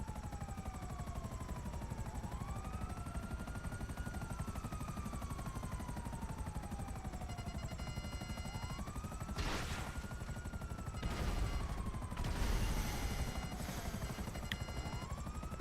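Helicopter in GTA Online hovering with a steady, droning rotor hum that holds throughout, with bursts of distant gunfire breaking in near the end and no talk.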